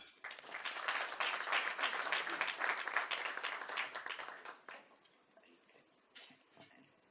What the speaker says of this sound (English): Please help me welcome with a round of applause, Susan Ngula.